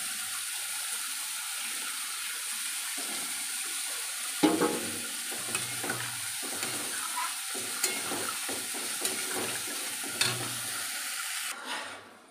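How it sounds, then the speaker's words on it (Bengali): Water poured onto potatoes sautéed for a fish curry sets up a steady hiss and bubbling in the pot, with scattered knocks and scrapes of a utensil, fairly quiet and without speech. "আলু কষানো হয়ে গেছে, এবার জল দিয়ে দেবো।"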